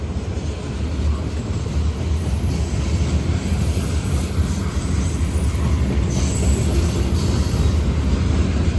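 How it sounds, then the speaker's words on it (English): Four Norfolk Southern freight locomotives roar loudly and continuously, a heavy rumbling drone with faint high metallic squeals from the wheels. "the locomotives are louder than a horn."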